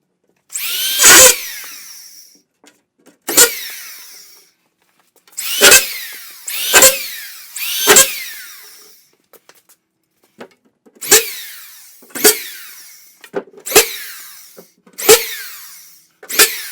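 A power drill drives screws into a drywall sheet during installation, giving about a dozen short, loud whirring bursts, each a second or so long and spaced by brief pauses, close up with no talking.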